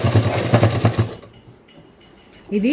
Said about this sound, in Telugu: ఇట్లా ఫోల్డింగ్ చేసుకొని కుట్టు అయితే వేసుకోవాలి